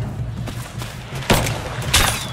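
Gunfire in the video game Rise of the Tomb Raider: scattered shots and thumps over a rumbling game backdrop, with two louder cracking bursts standing out near the end.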